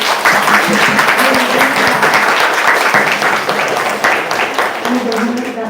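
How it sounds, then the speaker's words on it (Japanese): Audience applause for the international human rights lawyer David Matas at the close of his lecture on organ harvesting in China, a steady, dense wash of clapping lasting throughout with some voices mixed in. "マタ先生に拍手をお願いいたします。"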